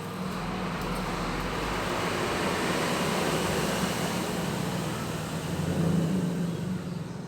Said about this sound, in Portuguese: Peraí, caminhão.